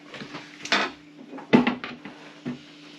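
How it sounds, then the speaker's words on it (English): Bowls and containers clatter in a few sharp knocks as a stand wobbles during soap making, with wood-and-dish rattles close by and no talk. "Wobbling the whole stand."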